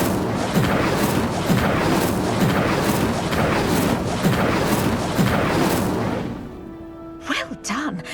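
Incendio fire spell in Hogwarts Legacy, a run of rhythmic whooshing bursts of flame that repeats about every half second, then gives way to quieter effects and a voice.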